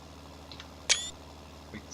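A screenshot camera shutter in a farming video game gives one crisp, bright click-whir, loud against a faint steady background hum, with a softer click or two nearby.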